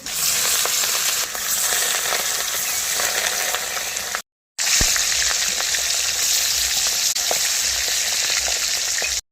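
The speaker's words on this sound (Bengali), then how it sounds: "মাছে লবণ হলুদ মাখিয়ে মাছগুলি তেলে ভেজে নেব" Steady, loud sizzling of salt-and-turmeric-coated fish frying in hot oil in a wok, close up and continuous, broken by one brief silence midway.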